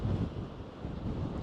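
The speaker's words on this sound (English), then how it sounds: "So very windy." Strong gusts buffet a clip-on microphone on a seaside walk at Lowestoft, producing a continuous low rumbling roar throughout with no voices.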